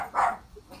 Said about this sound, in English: Attack dog, yeah, that's my attack dog.